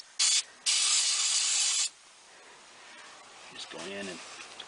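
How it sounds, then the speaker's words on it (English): MAF sensor cleaner sprays from an aerosol can in two bursts, one short and one longer steady hiss, close up, followed by faint background noise and a brief voice. "you can spray the dickens out of it"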